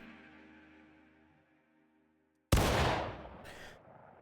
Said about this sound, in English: everyone can hear the sounds and echoes of gunfire whizzing over the top of the town